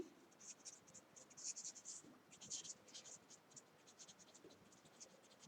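Chalk or marker scratching across a board during an accounting lesson, in short bursts of writing strokes, quiet and close, with little talk.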